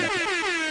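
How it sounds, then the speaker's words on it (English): A brief, loud blare of an air horn, steady and harsh, sounding alone for under a second. "He still gets the air horn."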